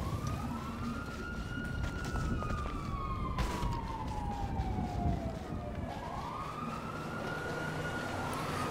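A police car siren from a snowy open-world crime video game wails in a rising and falling sweep, steady and fairly prominent over constant engine and road rumble.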